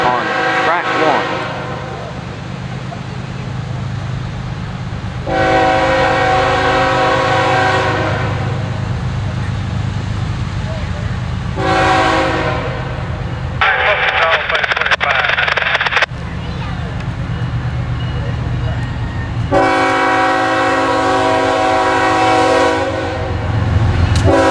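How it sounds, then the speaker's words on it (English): CSX Q609 freight train passing Folkston on track 1, a continuous loud rumble of railcars with several long, blaring horn blasts separated by pauses, one harsher burst of noise in the middle. "CSX Q609 coming by Folkston"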